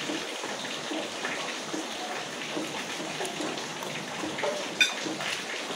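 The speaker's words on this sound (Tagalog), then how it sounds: "Ayan ang mga bubong, tuluan." Rain leaking through damaged roofs during Typhoon Uwan produces a steady, faint patter and drip of water spread across the whole stretch, with one slightly sharper drop near the end.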